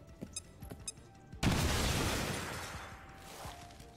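A frag grenade goes off in XCOM Chimera Squad with a sudden loud blast that rolls into a long, dense rumble fading over a few seconds, preceded by scattered small clicks and game sounds.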